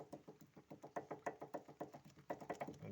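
A worn ball joint in a Daewoo Lanos suspension knocks in a steady, evenly spaced series of dull thuds, about five per second, close and fairly faint with no talk over it.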